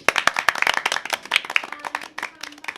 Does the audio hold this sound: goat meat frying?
no